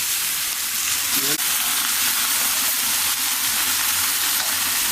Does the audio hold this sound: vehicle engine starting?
no